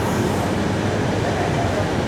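The 12431 Rajdhani Express pulls into Kollam Junction railway station with a loud, unbroken rumble of wheels and carriages that stays constant throughout.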